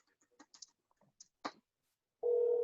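After a few scattered soft clicks and taps, a steady electronic telephone ring tone starts and holds, clear and close.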